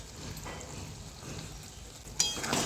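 Potol korma being stirred in a pan with ghee and garam masala, a soft continuous sizzle with faint scraping, then a brief louder clatter near the end.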